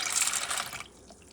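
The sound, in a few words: water poured over grains to soak for Laba congee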